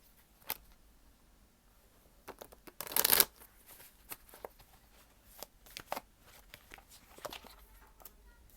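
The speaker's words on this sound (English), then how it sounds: "Let me shuffle them up really good." Tarot cards being shuffled by hand in quick riffles and soft slaps, with one louder ruffling burst amid intermittent taps and shuffles.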